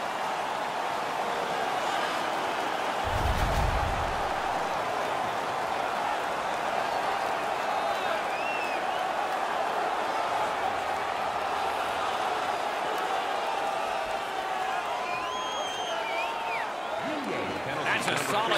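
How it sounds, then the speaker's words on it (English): Crowd at a home-team hockey game, Helsinki Belugas against Shanghai Elephants: a loud, steady arena roar that fills the whole stretch, with a dull thump early on. "The crowd is all over them right now."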